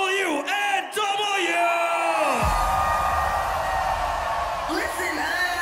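A loud shout rings out, then a large festival crowd at Tomorrowland erupts in sustained screaming and whooping, a dense roar that holds steady with a voice rising again near the end.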